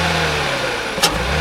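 A modified-exhaust Audi S4 engine idles with a loud, steady, low rumble close by, and a brief burst of noise near the end.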